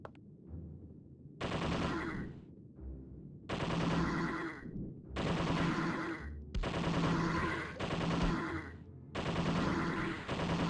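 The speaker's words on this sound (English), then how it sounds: "Machine gun." Machine gun fire in the arcade video game Zombie Revenge, loud bursts of rapid shots in roughly one-second volleys separated by brief pauses, with quieter game sounds in the gaps and no voices.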